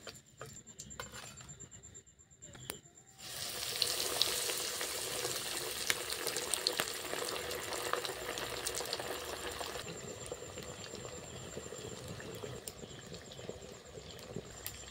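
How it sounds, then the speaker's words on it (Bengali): Raw potato sticks frying in hot oil over lowered heat: after a few quiet seconds, a close, dense sizzle and bubbling begins and continues steadily, easing slightly toward the end. "একইভাবে আমি সবগুলো ভেজে নিচ্ছি।"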